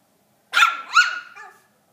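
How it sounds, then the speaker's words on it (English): A teacup chihuahua lets out a quick pair of sharp, high yapping barks at a bigger dog, close and clear against silence. "Little dog barking at big dog."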